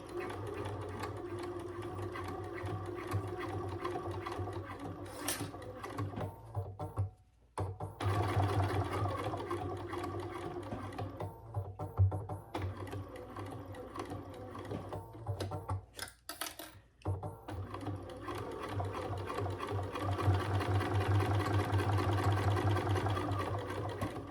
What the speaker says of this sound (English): This machine's not having any issues sewing through all these layers.